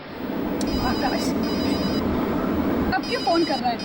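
A telephone rings with a repeated electronic tone in an indoor Hindi drama scene, fairly loud and close, overlapping with people talking.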